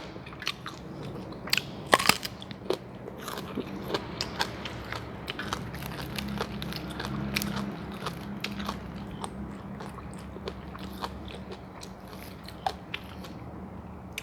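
Close, crisp crunching and biting as someone chews fresh raw vegetables such as eggplant and cucumber with stir-fried minced pork chili dip and sticky rice, steady wet chewing throughout with sharp bites, no talking.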